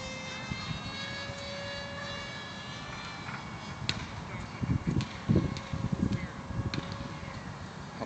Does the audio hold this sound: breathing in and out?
no